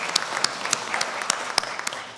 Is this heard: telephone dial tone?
no